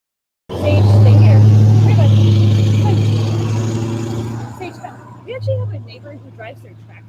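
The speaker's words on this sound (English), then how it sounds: "we've got a big diesel truck going by here" A heavy diesel truck rumbles loudly past up close, its deep engine drone filling the air before fading away as voices chatter underneath.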